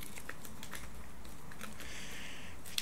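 Tanto Cuore playing cards being shuffled by hand, a steady run of soft, rapid paper riffles and clicks close by with no talking, ending on a brief sharp tap.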